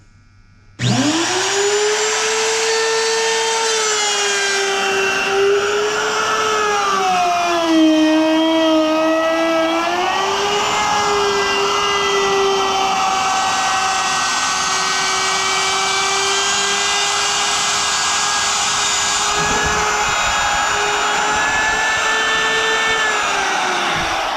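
A wood router fitted with a ball-bearing trim bit cutting along the edge of a wooden frame, a loud sustained high-pitched whine that starts abruptly and shifts slightly in pitch as it moves through the wood.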